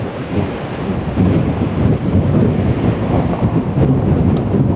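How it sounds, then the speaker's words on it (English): Strong desert wind at Wupatki's Citadel ruins roaring and buffeting the microphone continuously, a loud, dense rumble with no voices. "it's horrendously windy"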